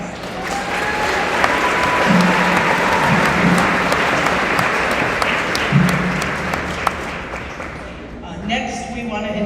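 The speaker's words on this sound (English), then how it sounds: "Let's give him another round of applause." Sustained audience applause at a formal ceremony honoring a chairman, a dense wash of clapping held steady at close range for several seconds, with a few voices rising near the end.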